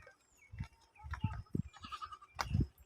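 Goats near their shed on a rural garden plot give several bleats at close range, spaced irregularly over a few seconds, with no talk over them.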